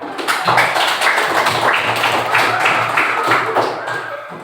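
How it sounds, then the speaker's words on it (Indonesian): Classroom group applauding a student group's presentation: dense, steady clapping from many hands, loud and close, lasting the whole stretch with a few scattered voices mixed in. "Ya, alhamdulillah, beri tepuk tangan."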